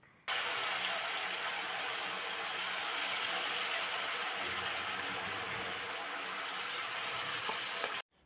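Sago fritter batter drops into hot oil on a high flame, deep frying with a steady, loud, dense sizzle and bubbling that fills the clip from start to end, with no talk.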